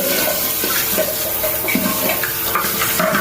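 Hot water runs steadily from a household tap during an electrical check, a continuous splashing rush with faint clinks over it and no talk.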